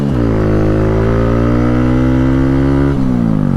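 A 2023 Kawasaki Z125 Pro motorcycle accelerating hard across a parking lot, its small engine revving loud and close through a rising pitch, then a brief dip at a gear change before climbing again.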